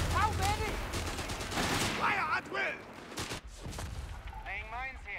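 Infantry rifles fire a ragged volley in Company of Heroes 3, a 2v2 match, with bursts of gunfire spread through the clip beneath a commentator's talk and other battle noise.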